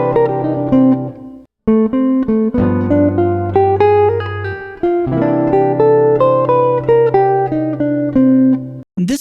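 Jazz guitar plays a quick bebop phrase from a solo, using hammer-ons and pull-offs. The clean notes flow in several bursts separated by brief gaps, with the instrument alone.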